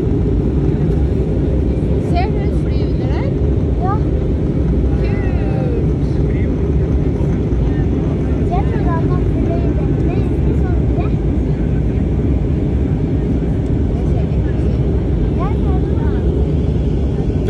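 Steady, loud jet engine rumble from an airplane passing overhead, with faint high chirps scattered above the drone.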